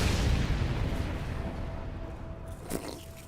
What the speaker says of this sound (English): Okay, well, that's an explosion.